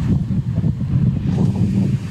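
Wind blows steadily across the microphone outdoors in a cold, breezy spot, making a continuous low rumble and buffeting that stays loud throughout.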